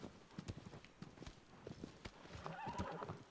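A horse in Shadow of the Colossus trots with rapid hoof clip-clops, then lets out a whinny toward the end, moderately loud over faint background.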